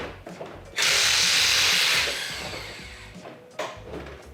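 Power tool driving factory bolts into the front bumper of a 2015+ Dodge Charger Scat Pack during a widebody install: one loud, sustained whirring burst of about a second that fades out, then a shorter burst near the end, alone.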